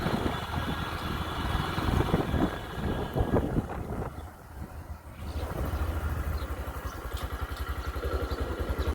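A motorcycle ridden on the way to the Mahakali Mataji temple, its engine rumbling steadily and close by, mixed with wind buffeting the microphone and a rhythmic pulsing toward the end.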